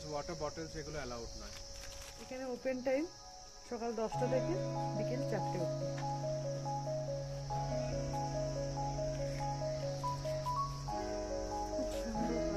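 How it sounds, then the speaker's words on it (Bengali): Crickets in a pine forest at the Rabdentse ruins in Pelling, Sikkim, keep up a steady high-pitched chirring throughout, heard beneath a person talking and faint tonal background sounds. "ঝিঝি পোকার ডাক শোনাই যাচ্ছে।"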